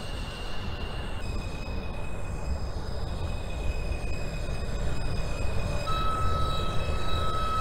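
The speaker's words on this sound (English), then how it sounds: "This is a Manhattan-bound F Express train." A simulated New York subway train, a Manhattan-bound F Express at Church Avenue in OpenBVE, rumbles steadily with long, high, drawn-out wheel squeals that shift pitch as it moves.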